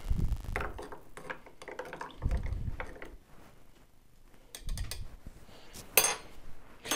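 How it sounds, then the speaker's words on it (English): A spoon stirs a sweet drink of orange triple sec and cream soda in a glass, making faint, close clinks and rattles in irregular bursts with quiet gaps. "Let's go ahead and stir it up."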